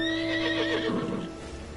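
A six-legged horse mount from Final Fantasy XIV, a storm mount given with the collector's edition, lets out one loud, close neigh that rises and then wavers down over under two seconds, with no talking.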